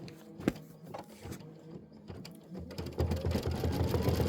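A Kimberbell embroidery machine stitches a quilt block, with close mechanical clicks and taps that build into a busier, louder whirring run of stitching.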